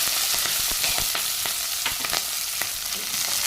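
Small onions sautéing in hot oil with popped mustard seeds and dried red chillies, a steady close sizzle and crackle with light stirring clicks throughout, no talking.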